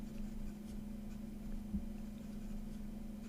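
Furore Aquapetra fountain pen nib writing on paper, a faint soft scratching under a steady low hum.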